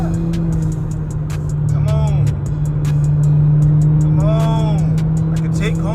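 A 2020 Chevy Malibu RS engine drops a gear and revs, the pitch climbing twice over a steady cabin drone, with people talking over it inside the car.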